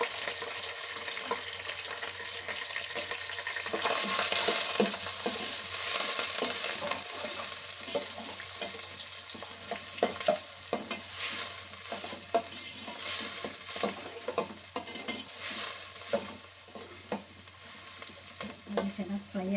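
Three onions fry and sizzle steadily in a hot pan for chicken fry, with stirring and scraping throughout, close and fairly loud.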